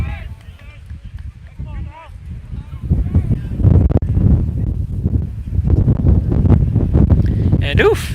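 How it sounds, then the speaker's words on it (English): Wind buffets the microphone at an outdoor varsity high school baseball game, a heavy low rumble that swells and gusts through most of the clip, with a commentator talking over it. "this wind is really picking up"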